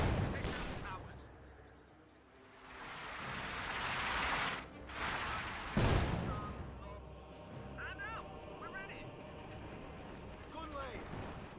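An artillery barrage in the World War II strategy game Company of Heroes 2 fires as a string of sharp booms and bursts, with a heavy rumbling swell midway, under ongoing commentary and battle noise.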